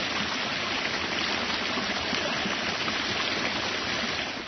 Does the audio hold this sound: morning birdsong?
no